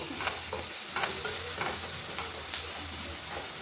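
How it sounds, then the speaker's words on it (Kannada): Onions roasting in a pan give a steady, close frying sizzle, broken by soft stirring scrapes and taps, with no voices. "ಚೆನ್ನಾಗಿ ರೋಸ್ಟ್ ಆಗಬೇಕು ಈರುಳ್ಳಿ ಎಲ್ಲ ಚೆನ್ನಾಗಿ ರೋಸ್ಟ್ ಆಗಲಿ"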